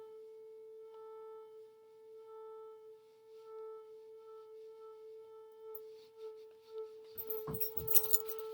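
A steady pure tone plays from a phone, its pitch wavering slightly as the phone is moved toward and away from the listener, ending in a burst of handling clatter.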